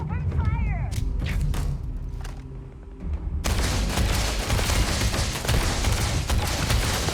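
Video game gunfire in a fight against a pirate: a dense, loud barrage of overlapping shots and booming thuds that swells into a continuous roar halfway through, with voices faintly mixed in early on.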